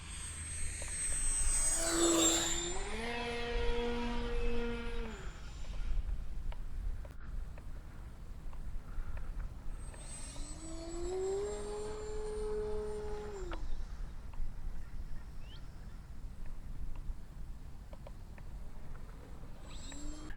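An Ugly Stik model airplane passes overhead twice, its small engine whining and sweeping up then down in pitch with each pass, loud near the start and again mid-clip, fading to quiet between.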